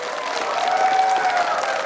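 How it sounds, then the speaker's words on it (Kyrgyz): Audience applause fills a Kyrgyz TV talent-show studio: a steady, dense patter of many hands clapping, even and unbroken for about two seconds, with a faint sustained tone running underneath. "Кол чаап коюңуздарчы."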